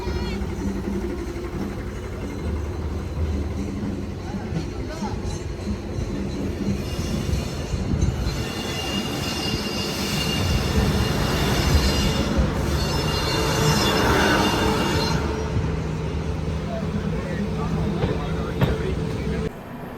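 A Rameswaram–Mangaluru express passenger train rumbles along the rails near Dindigul Junction with a constant heavy roar and rattling wheels, occasional squeals, heard from inside the moving carriage.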